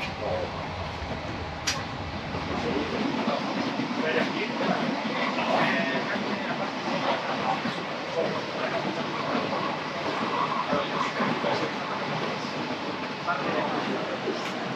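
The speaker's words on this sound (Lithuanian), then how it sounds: "Įsėdom į antrą traukinį, daug pižoniškesnis, kondiškė veikia visų pajėgumų." Steady rumble and rail noise from inside a moving air-conditioned train in Italy, continuous and moderately loud throughout with faint clicks.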